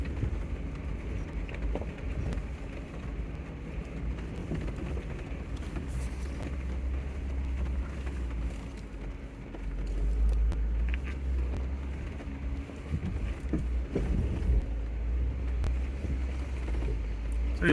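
A 4WD vehicle crawls slowly in low range over a rocky section of a Colorado trail, giving a steady low engine rumble with wind buffeting throughout and occasional bumps and knocks.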